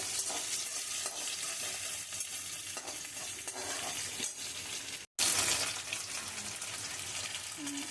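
Chopped onion and black cumin seeds sizzle steadily in hot oil while being stirred, a dense continuous hiss with faint utensil scrapes, briefly cutting out before the frying noise returns, louder and brighter.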